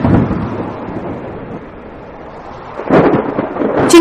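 Thunder rumbles low and heavy, fading into a steady rain hiss before a second rolling boom swells near the end.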